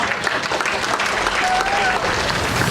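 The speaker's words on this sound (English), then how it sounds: "Let's give a big round of applause as well." Audience applause after a magic act, a steady wash of clapping throughout with some talk mixed in.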